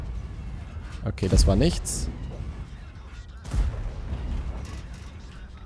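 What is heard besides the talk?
tank cannon firing in World of Tanks video game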